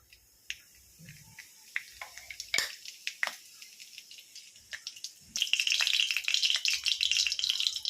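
Cumin seeds hit hot oil in a wok while methi aloo bhaji is being made: a few scattered pops and crackles, then a sudden dense, loud sizzle that keeps hissing close up.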